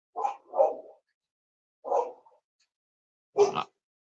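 Dogs bark in short bursts indoors: a quick double bark, a single bark after a pause, then another sharp bark, moderately close, with silence between and no talking.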